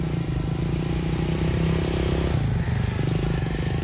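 A motorcycle engine runs at night in the bush, a steady, rough mid-pitched drone with a slight shift partway through, moderately close and continuous with no voices.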